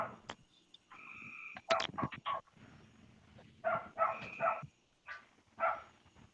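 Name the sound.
dog barking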